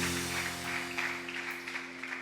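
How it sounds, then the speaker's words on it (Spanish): Church congregation clapping during worship, a dense wash of hand claps over sustained organ or keyboard tones, moderately loud and continuous. "Alábale con fuertes palmas al que vive."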